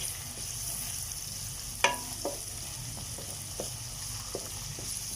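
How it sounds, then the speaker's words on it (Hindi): Crushed fried onions go into a frying kofta curry gravy, giving a soft, low sizzle, one sharp clink and a few light scraping taps of stirring. "जो मैंने प्याज क्रश करके रखी हुई थी, फ्राई की हुई प्याज, वो भी डाल देंगे"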